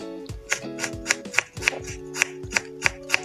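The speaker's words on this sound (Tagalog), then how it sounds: "Una, magi-slice lang tayo ng bawang." A knife slices garlic on a cutting board in a regular run of about ten crisp, close chops with soft background music beneath.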